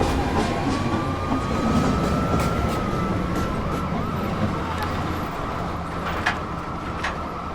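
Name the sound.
NYC subway 1 train arriving at a station, from a video game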